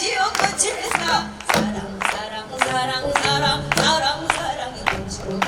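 A group claps in a steady rhythm along to a sung Korean folk-style song about flowers, the sharp claps falling on the beat under the singing voices.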